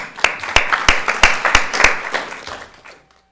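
A small group at a city council meeting claps for Public Works staff. About ten sharp, fairly loud claps ring out close by in a loose rhythm, then thin out and stop.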